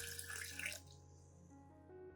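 Clean water splashes into a container to dilute a lemon peel and coffee plant solution, a brief, bright gush lasting under a second before dropping to a faint, quiet tail.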